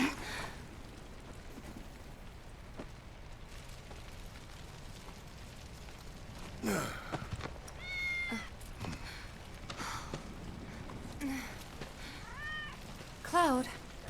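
Cat meowing in Final Fantasy 7 Remake, a few short high mews over quiet ambient game background with rainlike hiss, two clearer meows near the middle and a final one at the end, with brief talk between.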